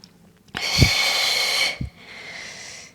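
One forceful breath drawn in sharply, then a long steady airy exhale, followed by a softer breath, as part of a morning breathing exercise.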